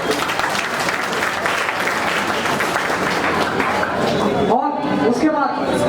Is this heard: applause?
yes